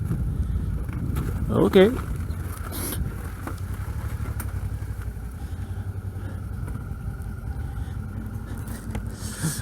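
A motorcycle rides along on a test ride, a low steady engine hum under buffeting wind noise, with a short louder burst early on and a brief spoken word.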